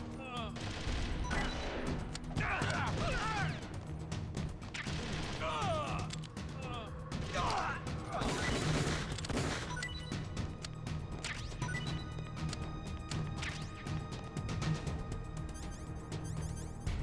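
Gunfire in a Metal Gear Solid remake video game, with repeated shots and clattering impacts scattered over a busy mechanical and ambient game backdrop, while a voice talks at times.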